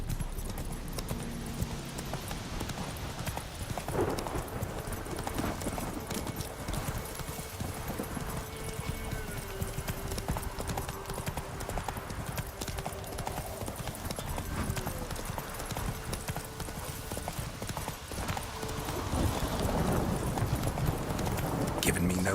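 A horse gallops in The Witcher 3 with steady hoof clip-clops throughout, under a constant background of game sound, and a voice speaks briefly.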